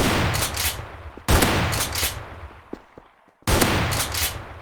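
A shotgun fires in a video game: three loud, close blasts, each with a long rumbling tail that fades before the next one. No one talks.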